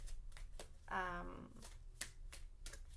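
A tarot card deck is shuffled up close, giving a soft riffling flutter of cards that swells briefly in the middle amid quiet handling rustles and taps.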